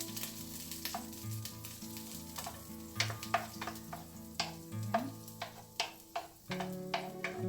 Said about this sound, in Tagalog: ilagay natin ang ating butter